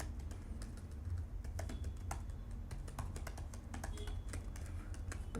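Code being typed on a computer keyboard, a steady patter of quiet key clicks at an even pace, close and alone without talking.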